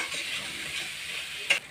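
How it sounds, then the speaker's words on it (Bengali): A spice mix with chili powder is stirred and fried in a pan for pepper kofta curry, a soft steady sizzle broken near the end by one sharp utensil clink. "মশলাটাকে একটু ভালো করে কষিয়ে নেব"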